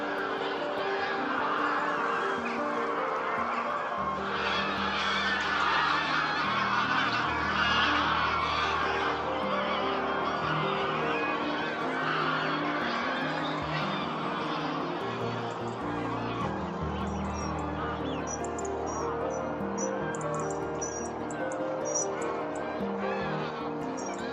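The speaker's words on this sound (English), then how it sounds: "the loud raucous honk of 2 or 3 separate skeins of grey-lag geese" Many greylag geese honk raucously and continuously, two or three separate skeins forming a dense chorus of overlapping calls at moderate distance, at Summer Leys in autumn.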